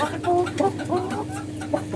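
Colombian light Brahma chickens, a rooster among hens about seven months old, cluck in short, soft bursts close by, with a faint steady background hum.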